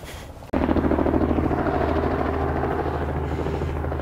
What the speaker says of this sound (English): Just waiting for the chopper to land quick.